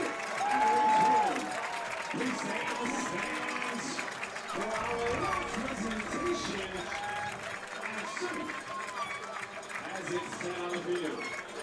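A large soccer crowd at the 2017 NPSL national championship final claps and cheers steadily after the final whistle, with a commentator talking over the sustained applause.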